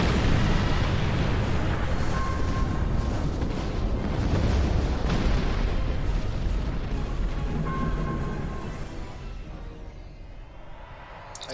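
A heavy torpedo fired from a starship in Star Trek Online, heard as a sustained, loud rumbling barrage of booming blasts that rolls on for several seconds before tapering into a quieter hum.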